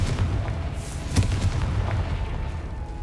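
A Confringo fire spell in Hogwarts Legacy, a PS5 video game, lands as a single blast, one sharp boom rising out of a steady low rumble of game ambience and music, fairly loud with no voices.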